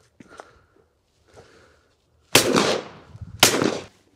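Two sharp, loud shotgun blasts at clay targets crack out about a second apart, each followed by a short decaying echo, after a few faint quiet sounds.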